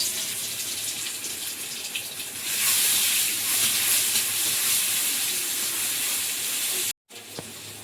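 Oil heating in a kadai (wok) gives a broad, hissing sizzle that swells louder midway and holds steady, then cuts off briefly near the end; close by, with no voices.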